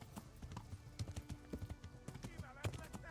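Rhythmic clip-clop of horse hooves in Kingdom Come Deliverance, a steady trot of fairly loud, close hoofbeats with some talk over it.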